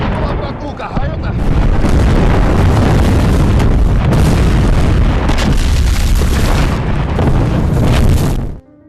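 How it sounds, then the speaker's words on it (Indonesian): Artillery fire in the war film Panfilov's 28 Men: loud, continuous booming explosions and rumbling blasts fill the scene almost without pause, then cut off abruptly at the end. "Kini serangan artileri yang diluncurkan lebih tepat sasaran."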